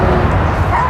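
A small dog barking, one short, sharp, high yappy bark heard close and loud.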